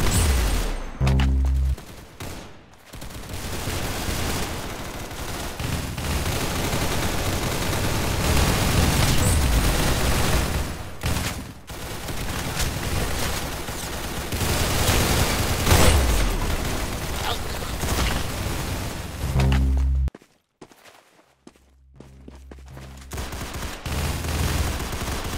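Rapid bursts of gunfire from the video game Arsenal run loud and dense almost throughout, with booming hits, two brief pauses and an abrupt drop near the end.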